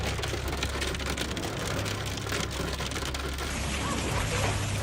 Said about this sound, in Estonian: kattis Küprose pealinna Nikosiat äikesetorm, kus oli suur pähklisuurune rahe